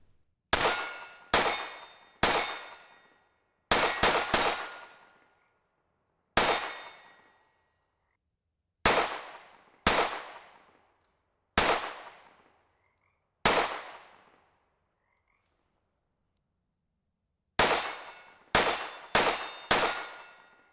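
Springfield Hellcat Pro pistol shots ringing off steel targets: about fifteen crisp, metallic cracks with short ringing decays, some in quick pairs and strings, separated by silent pauses, heard at a moderate distance without talk.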